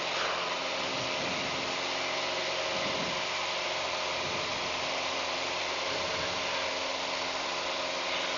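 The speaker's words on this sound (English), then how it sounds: "Takeoff run. And the tail comes up nicely. And in the air already." An RV4 light aircraft climbing out after takeoff from runway 7 at KCEU, its engine a loud steady drone heard as constant cockpit noise with no talking.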